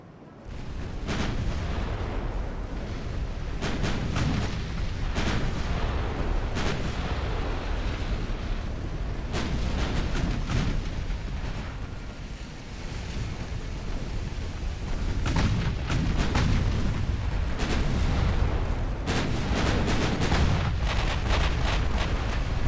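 Naval guns and torpedoes fire during a battleship engagement in Ultimate Admiral: Dreadnoughts, producing a dense, continuous rumble of heavy booms and blasts that overlap and swell throughout.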